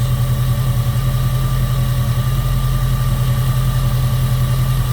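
The 4.7-litre V8 of a 2002 Jeep Grand Cherokee idles steadily with a deep, slightly uneven throb from a misfire and constant mechanical hum, close and continuous throughout.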